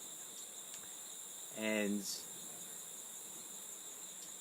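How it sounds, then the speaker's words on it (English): Crickets and cicadas keep up a continuous, even high-pitched chirring outdoors near a creek, steady in the background while a voice speaks briefly. "You can hear the cicadas and the crickets."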